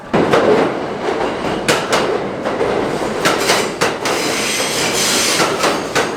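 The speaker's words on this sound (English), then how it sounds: "come along with us on our first subway ride ever" A New York City subway train rumbles steadily while riding, with rhythmic clacks and bangs from the wheels over the rails, loud and close.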